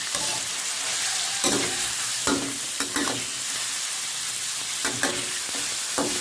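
Pork stir-frying in a pan for a Thai pickled bamboo shoot dish, a steady close sizzle broken by several sharp scraping stir strokes of the spatula.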